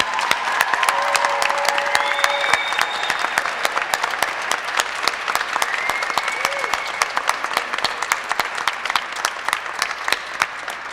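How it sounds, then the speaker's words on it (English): A crowd at a crime victims' rally on the Pennsylvania State Capitol steps claps loudly and steadily for survivors and allies, dense sustained applause with scattered voices mixed in. "Can I get a huge round of applause for all of these amazing, strong survivors and allies behind me?"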